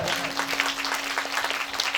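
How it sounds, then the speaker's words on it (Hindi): Audience at a Hindu religious discourse applauding to welcome a guest, a short burst of steady crowd clapping at moderate volume with a faint voice underneath. "जोरदार तालियों से स्वागत"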